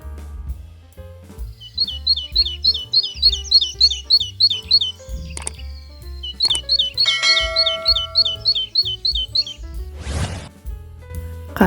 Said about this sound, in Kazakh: Шымшық, синица.